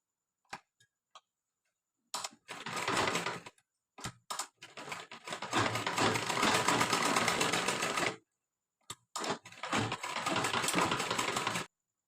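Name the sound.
sewing machine stitching a lehenga blouse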